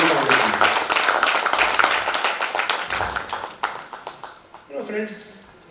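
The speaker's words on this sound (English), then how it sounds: "Let's give them a big round of applause for the work that they do for Rotary Foundation." An audience at a Rotary Foundation symposium and recognition event claps loudly and steadily, then the applause thins into scattered individual claps and fades while a voice speaks near the end.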